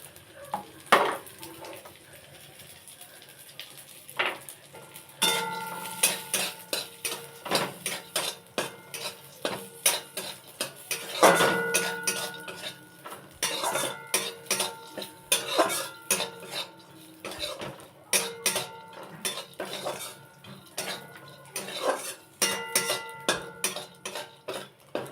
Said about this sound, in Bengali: আগে ভাজা ছিল কিন্তু একটু নরম হয়ে গেছে বলে আর একবার কড়াই নেড়ে চেড়ে নেব।